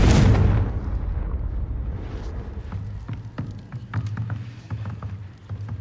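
A Confringo fire spell blasts in Hogwarts Legacy with one loud, booming burst at the start that fades into a low rumble, followed by scattered crackles and small pops over a steady low hum.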